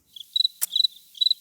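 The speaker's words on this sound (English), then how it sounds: "Crickets." Crickets chirp in short high trills, several bursts spaced across a moment of quiet, with one brief sharp click partway through; no talking.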